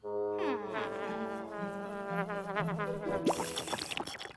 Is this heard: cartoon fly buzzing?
yes